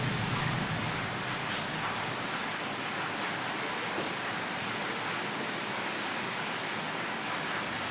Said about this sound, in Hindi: बारिश बहुत ज़्यादा है।